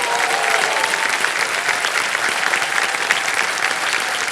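Studio audience at a television quiz show applauding a contestant's bonus win, a dense, even wash of clapping that holds steady and loud throughout with no break.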